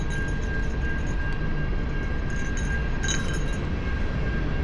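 A train passing near Burnaby Lake, heard as a steady, loud rumbling roar with faint metallic clinks above it, continuous throughout with no talking.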